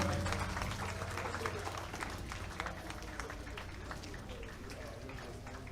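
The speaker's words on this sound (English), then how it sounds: "Please keep on clapping for His Excellency, please. A round of applause again." An audience at a school project commissioning event in Ibadan keeps clapping in a dense, continuous wash, with crowd murmur and voices mixed in throughout.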